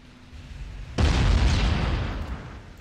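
Warship gunfire in Ultimate Admiral Dreadnoughts: a single loud, deep boom bursts in after a quiet start and rumbles on before slowly fading, with no one speaking.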